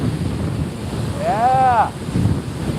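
Ocean surf rolls and washes over a rugged shoreline in a loud continuous rush, buffeted by strong wind noise, with a brief high-pitched call rising above the roar partway through.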